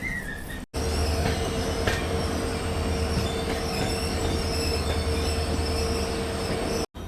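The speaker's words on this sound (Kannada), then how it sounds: "ಕಾರವಾರ ಯಶವಂತಪುರ ಎಕ್ಸ್ಪ್ರೆಸ್ ಬಂದೈತೆ ರೀ ಸಕಲೇಶ್ಪುರಕ್ಕೆ." Karwar–Yeshwantpur Express pulling into Sakleshpur station, a steady loud rumble of rolling rail cars with faint squealing wheels and a sustained hum, continuous for the full length with no talking.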